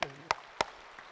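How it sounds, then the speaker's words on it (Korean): A pastor claps his hands for the congregation during a church sermon, giving three crisp, evenly spaced claps followed by a fainter fourth in an otherwise quiet room. "나는 여러분에게 박수를 쳐드리겠어요."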